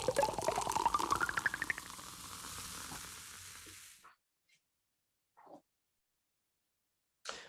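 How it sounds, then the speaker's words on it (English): A studio-synthesized Coca-Cola pop and pour: a steady sizzling fizz with a rising pour tone for about four seconds, then silence broken by a few faint crackles and a final short burst. "That was the Coca-Cola Fizz that was entirely synthesized in the studio rather than recorded in the reel"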